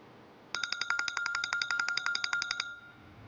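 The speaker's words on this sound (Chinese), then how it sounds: "公司的电话，我出去接一下" A phone ringtone starts after a short quiet pause, a rapid bright electronic trill in quick repeated bursts for about two seconds, clear and alone, then cuts off.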